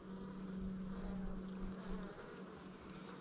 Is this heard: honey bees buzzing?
yes